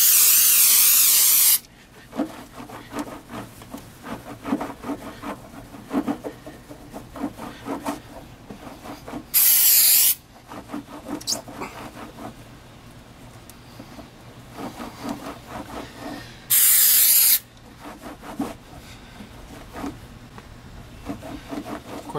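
Electrical cleaner sprays from an aerosol can onto a car emblem in three short hissing bursts, separated by rubbing and wiping sounds from a rag.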